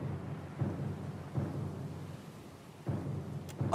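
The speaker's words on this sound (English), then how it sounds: "Lost and alone in the storm?" Thunderstorm in the video game Pillars of Eternity 2: Deadfire, a steady low rumble of storm and rain with a few soft swells of distant thunder.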